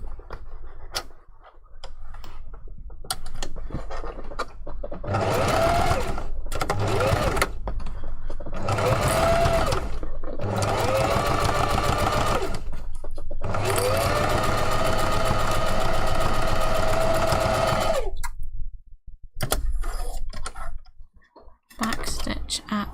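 A sewing machine stitching a puffy fursuit hand paw runs in several long bursts of rapid mechanical whirring, close and loud, separated by short pauses.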